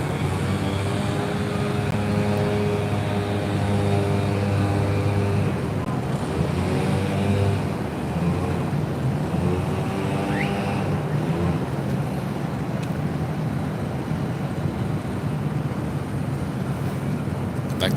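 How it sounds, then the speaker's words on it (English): A Qatar Airways Airbus A350-1000 takes off at LAX bound for Doha, its engines making a sustained drone with layered whining tones that shift in pitch, heard from a distance over a windy outdoor background, with no talking. "This is Qatar Airways 740 taking off to Doha on the A350"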